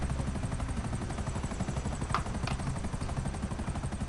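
A helicopter in GTA Online gives a continuous close rotor chop and engine drone, loud and steady, with a couple of brief sharp higher noises partway through and no talk.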